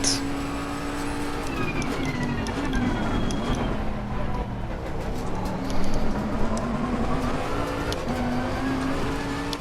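A race car engine in the Assetto Corsa Competizione racing game revs loud and close through gear changes, rising and falling pitch under braking and acceleration, with brief tire squeal over a continuous roar.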